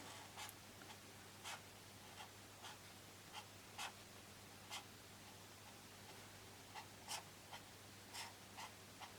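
Arteza fineliner pen writing on paper, a series of faint, short scratchy strokes in an irregular rhythm against a quiet background hum.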